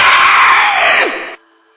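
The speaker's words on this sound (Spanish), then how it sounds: "La cosa volvió a gritar" A monstrous creature, a prototype among zombie-like devourers in an apocalypse story, lets out a loud, harsh scream that holds steady for over a second, then drops sharply and cuts off, leaving near silence.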